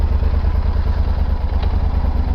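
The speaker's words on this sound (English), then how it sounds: "So the bike is making noise." Yamaha Super Tenere motorcycle with a failing shaft drive, giving a steady low mechanical drone with fast rhythmic clatter and a brief knock, close and loud without any talk.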